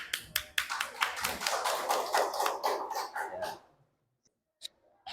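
A high-school class applauds at a group presentation in an Islamic religious education lesson: a burst of brisk hand claps from a small group, close and lively, thinning out after a few seconds and ending in near silence with a few stray taps.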